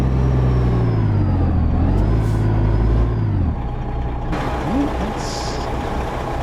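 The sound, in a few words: truck reversing in American Truck Simulator video game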